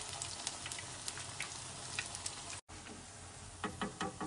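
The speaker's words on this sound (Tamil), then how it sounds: "ஒரு 3-4 மினிட்ஸ்க்குள்ள ரெண்டு சைடையும் நம்ம வறுத்து எடுத்துக்கலாம்." Raw banana (vazhakai) kebab cutlets fry in a pan with a steady, dense sizzle and scattered crackles, briefly cutting out before the frying resumes with sharper popping bursts.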